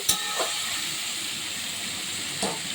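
Water poured into a hot pan of fried vegetables, long beans and potato for a poppy-seed dish, setting off a loud steady hiss of steam with a sharp burst at the start and another near the end.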